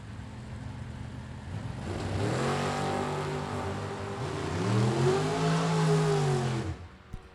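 Drag racing cars, a Mustang and a Camaro, roar through a run with steady engine noise rising through climbing rev sweeps, loud and close, then cut off abruptly near the end.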